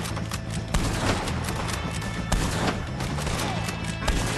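Gunshots in Red Dead Redemption 2 ring out as a loud, irregular volley of sharp cracks, several shots in quick bursts with brief gaps between them.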